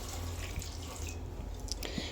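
Water trickles and splashes steadily into a pressure cooker, close and fairly quiet, with a couple of small metallic clinks near the end.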